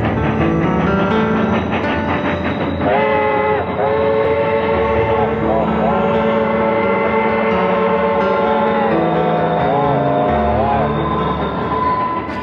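A modern CSX freight train rumbles past loud and close, a steady roar of rolling cars with a sustained multi-tone horn blaring through the middle, continuous for the whole stretch.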